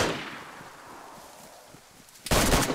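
A loud burst of gunfire erupts near the end of a PvP video game match, preceded by a fading blast tail and quieter scattered action.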